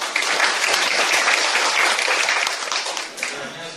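Seminar attendees clap to welcome lecturer Lee Jin-woo, a full burst of applause that tapers slightly toward the end, with a voice faintly present.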